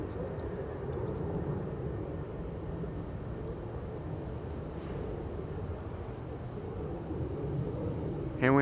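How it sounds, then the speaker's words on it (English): Air Baltic Bombardier C Series 300 jet at Amsterdam Schiphol airport, a steady broad roar of engines held at even loudness, with a brief louder burst at the end. "Here we have Air Baltic flight 858 to Tallinn, Bombardier C Series 300."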